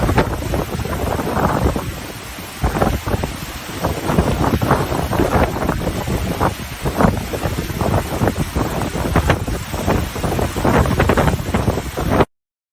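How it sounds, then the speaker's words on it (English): Strong gusty wind on the deck of the cruise ship Odyssey of the Seas buffets the microphone in loud, rough bursts, with a rushing undertone of sea and motion throughout. "Definitely had some wind out there."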